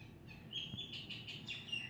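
A parrot gives a few short, high chirping calls, faint and slightly distant, with no voices over them.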